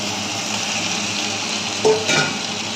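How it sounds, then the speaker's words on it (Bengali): Eggs and potatoes are stirred into fried spices for a Bengali egg curry: a steady hiss of sizzling oil with a few scraping clinks of a spoon against the pan. "এবারে ডিম আর আলু একসঙ্গে দিয়ে নাড়াবো"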